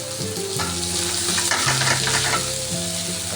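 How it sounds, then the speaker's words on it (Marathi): Drumstick leaves frying in a pan for a subji, a steady broadband sizzle with stirring scrapes, while music plays over it throughout. "बघा आपण आता त्याच्यामध्ये फ्राय करणार आहे।"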